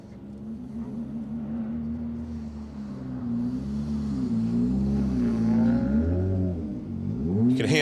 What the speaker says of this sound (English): You can hear the car of Hugh Hunter and Rob Fagg driving around the service park here